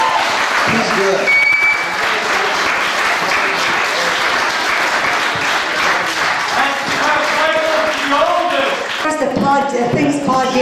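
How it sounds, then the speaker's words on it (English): A family reunion audience breaks into sustained applause, loud and dense for about ten seconds, with voices and some tonal sounds mixed in toward the end. "we should give him a round of applause"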